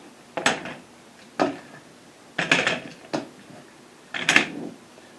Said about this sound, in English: we're going to remove the clamps.